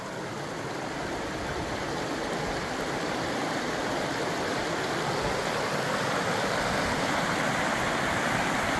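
A clear, fast-flowing trout river on a farm near Dullstroom and Lydenburg rushes with a steady, loud broadband wash of water, unbroken and close throughout.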